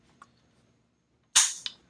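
Dry-fire trigger release on a PSA 10.5-inch AR kit: one sharp, loud metallic snap with a brief ringing tail, then a fainter second click moments later as the trigger resets, near and alone.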